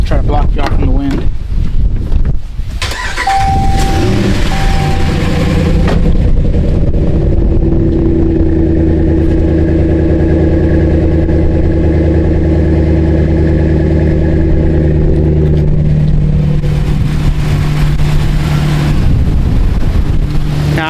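A car engine cranks over, catches and settles into a loud, steady idle with a constant low rumble, and some wind buffeting the microphone throughout.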